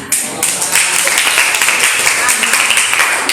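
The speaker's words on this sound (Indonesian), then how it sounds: "tepuk tangan" Classroom audience applause after a teaching presentation, a bright continuous wash of clapping hands, loud and close, holding steady for a few seconds.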